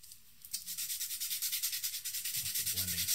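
A charcoal blending stump is rubbed back and forth on sandpaper, a close, rhythmic rasping scratch of about a dozen quick strokes, alone with no voices.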